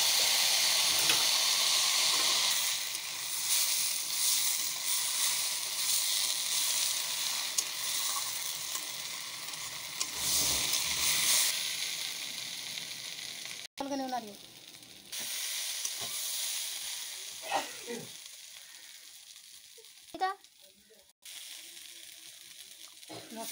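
A paste of ground ginger, cumin, coriander and green and dried chillies fries in a pan for a small-fish curry, hissing with a steady loud sizzle, then quieter with scattered stirring scrapes and clinks.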